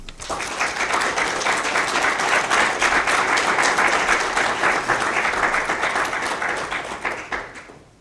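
An audience at an artist talk applauds to welcome the speaker, with dense sustained clapping that builds, holds steady for several seconds, then fades out.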